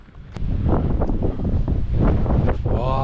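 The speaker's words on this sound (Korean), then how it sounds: "진짜 바람도 많이 불고" Strong gusting wind buffets the microphone on a mountain trek in Kazbegi, Georgia, a loud, continuous rumble with faint voices mixed underneath.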